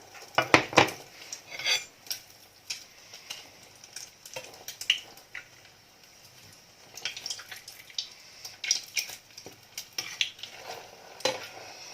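Fried rice with fresh naem tossed in a pan over medium heat, with scattered clinks and scrapes of a utensil against the pan and a faint sizzle underneath, loud clattering bursts at the start, near and with no talking.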